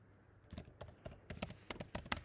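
Someone types on a computer keyboard while submitting an assignment, a short, quiet burst of quick irregular key clicks, close up, with no talk over it.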